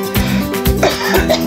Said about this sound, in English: excuse me, I've got to cough.